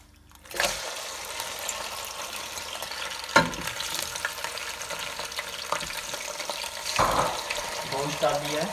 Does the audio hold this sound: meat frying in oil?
yes